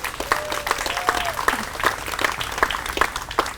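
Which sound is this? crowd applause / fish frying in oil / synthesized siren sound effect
crowd applause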